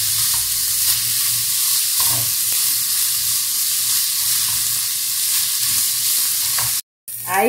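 Green onion and seasoning sizzle steadily in a hot pan, a loud continuous frying hiss with occasional stirring scrapes, close up and without talk.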